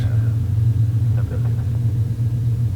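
Cessna 210 Centurion piston engine in X-Plane 11, throttling up for taxi with the parking brake released: a steady, loud low drone that holds evenly throughout with a slight rising hum.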